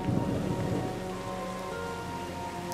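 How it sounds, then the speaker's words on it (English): Steady rain shower pours down in a continuous hiss near the ocean, with heavy patter on surfaces and a faint rumble underneath. "It's a rain shower."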